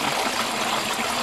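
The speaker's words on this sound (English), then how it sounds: "yan yung waterfalls" A small waterfall in the wild, where aquatic plants grow, gives a loud, steady rush of falling water. The dense hiss is close and continuous, with no voices over it.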